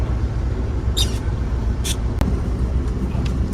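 A coach bus idles at Tanjung Priok terminal in Jakarta before a Jakarta–Jogja trip, giving a steady low engine rumble with a few sharp air hisses and a brief click, heard from close by with no speech.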